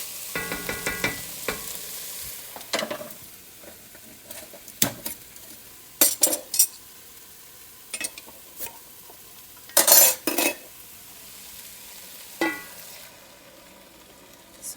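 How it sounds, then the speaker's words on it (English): Canned tomatoes are dumped into a pan that has been browning food for a deep-dish pizza sauce, giving scattered clanks, scrapes and wet splatters over a low sizzle, close and intermittent, with no talking. "And now we're going to dump in our tomatoes."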